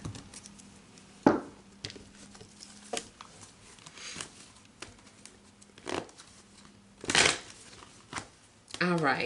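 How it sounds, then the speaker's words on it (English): A deck of energy cards is shuffled for a card reading, giving several brief riffling bursts spaced apart over a soft background, with a faint voice heard at moments. "let me go ahead and pull some energy cards for you guys"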